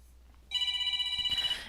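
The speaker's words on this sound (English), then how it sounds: "That's my ringtone? It only rang once." A phone ringtone sounds once, a bright electronic tone that starts abruptly and holds for about a second before cutting off, faint and close with no talk over it.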